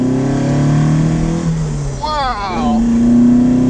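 A classic Alfa Romeo GTV accelerates, its engine note rising in pitch and then settling into a steady drone, loud and close, with voices talking over it.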